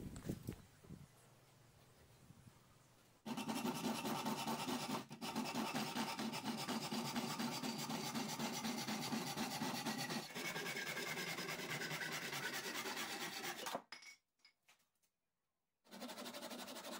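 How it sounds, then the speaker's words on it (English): Wood rubs back and forth against sandpaper glued to a flat MDF board in a steady, raspy scraping that runs for several seconds, pauses briefly, then resumes. "I'm glued the sandpaper to the MDF board. That way I have flat surface for sanding."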